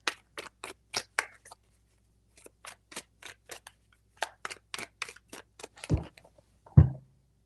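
Tarot cards are shuffled in quick bursts of crisp riffling snaps, close and fairly quiet, with brief pauses between sets of shuffles and a soft thump near the end.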